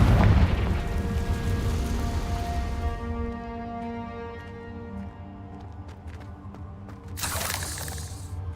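A Confringo blasting spell explodes in Hogwarts Legacy with a loud booming burst at the start that decays into ringing tones, followed by a second crackling blast near the end.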